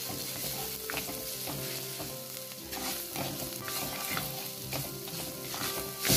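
Chopped shallots, onion and a slit green chili fry in hot oil while being stirred, a dense continuous sizzle with occasional scraping of the spoon, steady and close without any talk.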